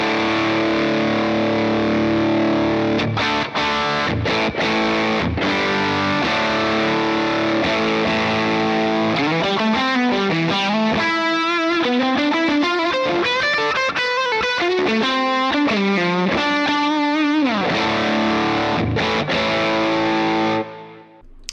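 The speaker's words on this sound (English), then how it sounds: "you can get those overdrive tones out of it, you can get those distortion tones out of it" An electric guitar played through a Jam Pedals Rattler distortion pedal, loud saturated chords ringing first, then fast single-note runs and riffs, ending with a chord that cuts off abruptly.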